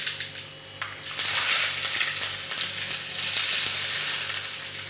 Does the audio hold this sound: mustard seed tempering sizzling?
yes